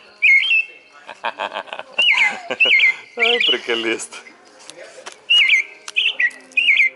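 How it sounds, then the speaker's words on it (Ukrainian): An American robin sings bright, repeated whistled phrases in short bursts, while a person talks intermittently over and between the song. "American robin."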